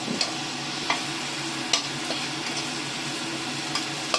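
Onion and garlic sauté in a pan, a steady close sizzle with a few sharp utensil scrapes and clinks spaced through the frying, no voices.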